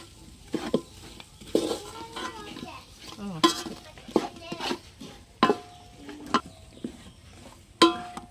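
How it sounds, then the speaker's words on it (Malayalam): Spoon stirring country chicken perattu in a pan: repeated scraping strokes with sharp metallic clinks against the pan, close and fairly loud, with faint sizzling underneath. "ഇനി എല്ലാം കൂടെ ഇളക്കി യോജിപ്പിക്കുക"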